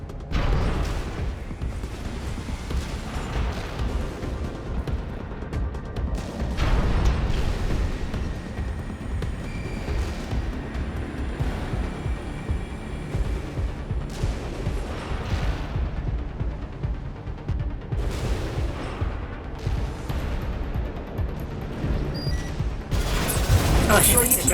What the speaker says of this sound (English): The minigun in this is okay.